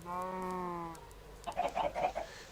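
Chickens in the Minecraft video game, a sustained harmonic animal call followed by a quick burst of short clucking notes, close and moderately loud with no talk.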